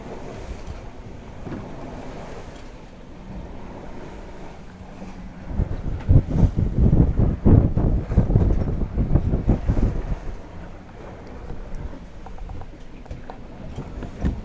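A sailboat under way at 4 to 5 knots on open water toward the U.S. Virgin Islands, with steady wind buffeting and waves rushing along the hull that swell louder midway, no voices.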